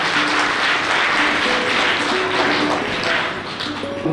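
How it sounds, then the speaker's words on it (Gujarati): Sustained, steady clapping from a gathered crowd greets guests at a primary school farewell ceremony for a retiring principal, dense and even throughout with no voices standing out. "તાળીઓથી આપણે વધાવી લઈશું."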